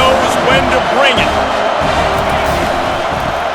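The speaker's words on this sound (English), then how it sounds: "This crowd knows when to bring it." A stadium crowd cheering in the College Football 25 video game, a dense continuous roar with whoops, under a commentator's voice that talks almost the whole time.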